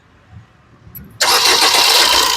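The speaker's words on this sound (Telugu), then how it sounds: "సింగిల్ సెల్ఫ్ లో కార్ స్టార్ట్ అయితే ఎటువంటి స్టార్టింగ్ ట్రబుల్ అయితే లేదండి" A 2015 Maruti Suzuki Baleno Alpha engine cranks and catches abruptly on the first try, then settles into a loud, steady idle after a quiet moment.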